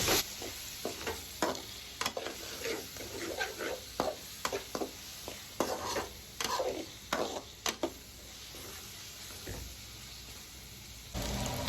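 Onions fry in a pan as a spoon stirs them, scraping and clinking in irregular bursts over a soft, steady sizzle, close and fairly quiet, with no voices.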